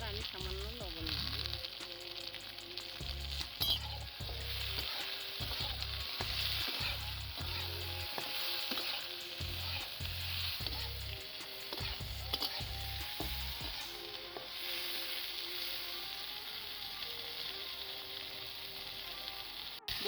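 Eggplant slices frying in hot oil seasoned with turmeric and salt give a steady, close sizzle for about twenty seconds, punctuated by a run of rhythmic knocks and scrapes from stirring, with no voices.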